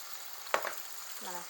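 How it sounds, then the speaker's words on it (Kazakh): Food sizzles steadily in hot oil, with a sharp crackle as a piece goes in. "Майды қыздырып алдық. Енді тауықты ақырындап саламыз."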